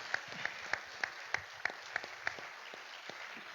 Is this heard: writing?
no